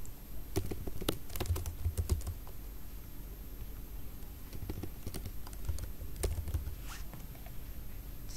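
Keys clatter on a computer keyboard in quick, uneven bursts, fairly close and quiet, with short pauses between runs of typing and no talk.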